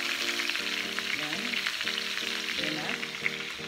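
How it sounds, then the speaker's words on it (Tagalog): Pork frying in a pan after being flipped golden brown, a continuous soft crackling sizzle held at a moderate, steady level, with a faint tonal hum running underneath. "So, i-fry din natin yung the other side."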